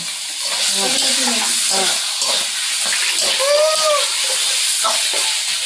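Leafy greens for shak bhaji fry loudly in a pan with a steady, bright sizzling hiss, while people talk over the cooking throughout.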